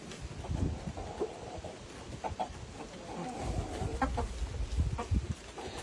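Backyard chickens cluck outside, soft intermittent clucks and short calls scattered over light wind noise, fairly close and low in level, with no talk.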